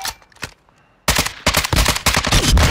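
Automatic fire from an AK or RPK with a 40-round magazine in Warzone 2.0's Al Mazrah battle royale, a few scattered shots early, then a sustained loud burst of rapid close rounds.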